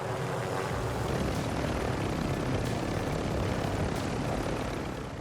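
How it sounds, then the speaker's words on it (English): A helicopter's rotor and engine drone steadily and loudly in the video game Warzone 2.0, a continuous whirring roar that fades slightly at the end. "Fortunately I have a helicopter near me. I take the helicopter and head right to him."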